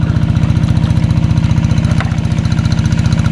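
A boat engine runs loud and close, thudding in a fast, even, pulsing chug that never lets up.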